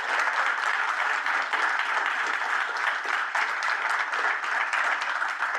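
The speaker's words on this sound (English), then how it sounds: "I want to give a big round of applause and huge thanks to both Jane and Rachel for their presentations tonight." Warm applause from an audience after evening presentations, a dense, sustained patter of many hands clapping at steady volume for several seconds with no speech over it.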